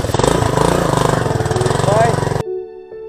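Motorcycle engine running steadily and loudly during a ride near Jalori Pass, with a throbbing, even rhythm for about two seconds before it cuts off into quieter tones.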